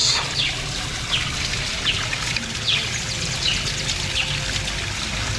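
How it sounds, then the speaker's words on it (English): Water flowing steadily along a stream on Mbuya Hill in Kampala, Uganda, a continuous trickling rush with faint bird chirps above it, close and even with no talking. "The water is just flowing."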